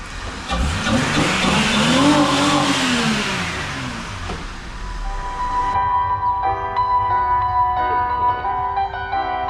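A 1998 Holden VT Commodore with a 3.8 litre Ecotec V6 drives in, its engine rising and falling in a loud, close pass before settling into a steady idle with some music-like tones behind it.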